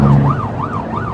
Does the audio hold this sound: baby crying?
no